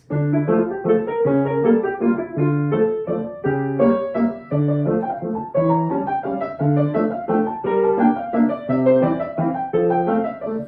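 Solo piano plays a gentle melody over a steady oom-pah-pah left-hand chord pattern, moderately loud and even.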